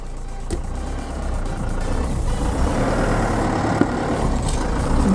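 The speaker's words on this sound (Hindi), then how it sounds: "अब करते हैं गाड़ी को स्टार्ट और कंटिन्यूसली चलने देते हैं।" A car with a fully deflated tyre runs with a steady, close engine rumble that holds at an even level throughout, with no voices.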